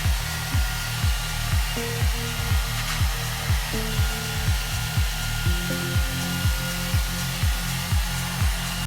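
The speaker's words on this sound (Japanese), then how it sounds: "そしたらドライヤーできちんと乾かします。" A hair dryer dries short hair after a styling product is worked in: a loud, steady blowing hum close by, wavering in a quick regular pulse throughout as it is moved.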